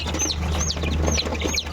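Several high, rising chirps from chicks in a poultry brood, including an injured chick with a bent leg, come in about four short, repeated calls over a steady low hum, with no talk.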